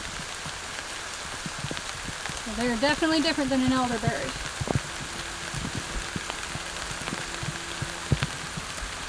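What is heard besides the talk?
rain falling outdoors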